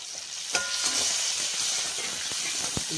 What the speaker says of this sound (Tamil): தக்காளி கொஞ்சம் நல்லா வதங்க. உப்பு போட்டுருங்க.